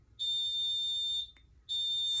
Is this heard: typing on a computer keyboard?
no